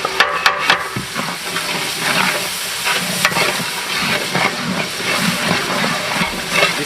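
Garlic and ginger paste hits hot oil in a goat biryani pot, with a burst of clinks and scraping at first, then a loud, steady sizzle and hiss with stirring.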